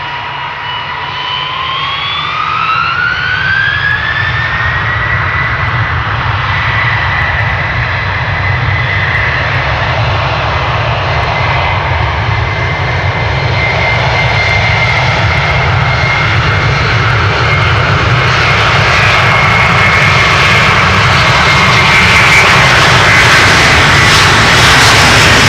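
A Boeing 787 jet takes off on Schiphol's Polderbaan runway, its loud, close engine roar rising as a whine sweeps upward and the thrust builds steadily. No one speaks.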